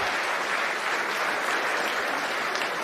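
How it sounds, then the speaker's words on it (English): Audience applause at a Bitcoin conference livestream in Amsterdam, a dense, even wash of many hands clapping for a few seconds, no voices over it. "Claps are good. We allow claps."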